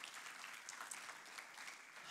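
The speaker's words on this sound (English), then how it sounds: "give them a huge round of applause" A church congregation at a pastor's service gives sustained applause, a dense, even wash of many hands clapping together. It sounds faint and somewhat distant, with no clear talking on top.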